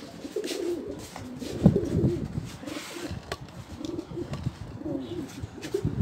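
Pigeons coo repeatedly in soft, rolling phrases, fairly close, with scattered rustling and faint bird movement around them.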